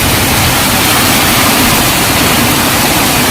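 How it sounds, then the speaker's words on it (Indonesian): Loud, dense hiss of heavy rain pouring steadily, filling everything with no pauses or voices. "Ini hujan deras, guys."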